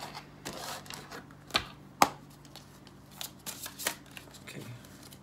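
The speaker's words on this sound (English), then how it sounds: "I cut the cards in three." Tarot cards being cut into three piles, heard as a few crisp card snaps and slaps, one sharper slap near the middle, close and moderately loud over a faint steady hum with no talk.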